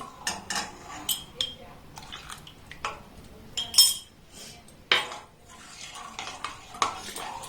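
Milk with custard powder is stirred in a pan, with a spoon making irregular close clinks and scrapes against the metal amid quiet gaps.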